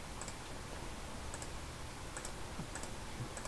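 Faint, soft computer mouse clicks sound at roughly even intervals, five or six small isolated ticks over a quiet background hum.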